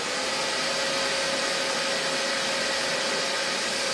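A shop vacuum roars steadily and continuously with a constant high whine, a loud, unbroken suction hiss throughout with no pauses while sucking up debris such as bolts, nuts, bottle tops and nails.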